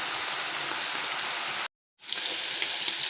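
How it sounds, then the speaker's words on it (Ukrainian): Meat pieces fry for plov with a dense, steady sizzle and crackle that cuts out briefly before resuming just as loud. "смачніше все обсмажуємо м'яско"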